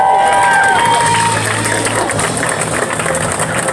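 Live show crowd cheering and shouting in a loud, continuous roar, close and dense throughout, with an amplified voice briefly heard at the start.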